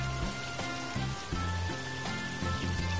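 Steady rain in the farming game Sakuna: Of Rice and Ruin, a soft continuous patter running the whole way under repeating low musical notes from the game's score, with no voices.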